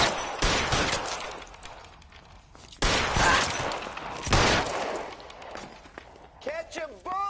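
Video game gunfire from L.A. Noire comes in several sharp, loud volleys over a busy scene of constant noise, mixed with a shouting voice and other sounds of action.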